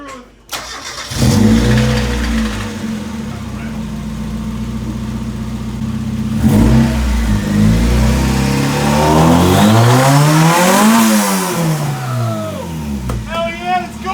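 A 1991 Mazda Miata drift car starts up and revs repeatedly, close and loud, the engine surging and settling between rising throttle blips.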